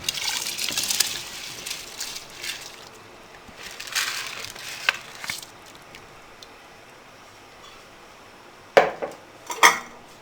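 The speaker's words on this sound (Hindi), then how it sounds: "अब इसमें हम चावल डाल देंगे।" Rice is poured into a cooking pot for beef yakhni pulao, with clattering metal pot and utensil sounds, some watery splashing and a few sharp knocks near the end, at moderate loudness.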